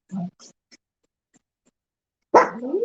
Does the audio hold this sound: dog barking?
yes